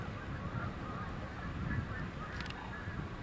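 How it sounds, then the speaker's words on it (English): Canada geese flying overhead, honking faintly in the distance over a steady outdoor background. "Those look like Canada geese."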